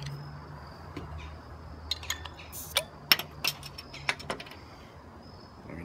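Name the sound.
opening a bottle of Abita Bourbon Street Baltic Porter beer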